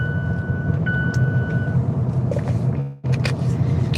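A steady high electronic beeping tone, like a vehicle reversing alarm, sounds twice over a loud engine rumble, followed by a brief drop and more engine noise.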